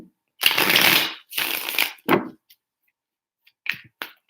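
Tarot cards are shuffled in three quick riffling bursts, close and crisp, followed by a few light taps and card snaps in an otherwise quiet room.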